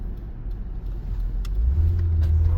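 A high-mileage third-generation Honda Odyssey minivan's engine hums and builds into a steady rumbling drone as it accelerates onto a highway, heard from inside the cabin with no talking.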